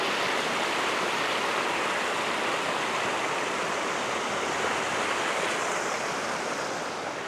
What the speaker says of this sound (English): Water is just particularly loud right here